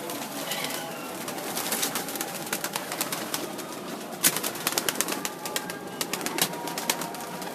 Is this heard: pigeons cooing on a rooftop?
yes